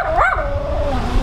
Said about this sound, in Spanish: Y este es el perro.